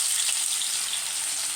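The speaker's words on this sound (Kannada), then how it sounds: "ಒಗ್ಗರಣೆಗೆ ಹಾಕೋಣ" Steamed semolina balls hit hot tempering oil with curry leaves and sizzle, a dense, steady frying hiss up close with no voices.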